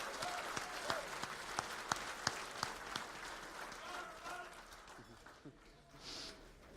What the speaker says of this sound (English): Let's give a big round of applause to our presenting sponsor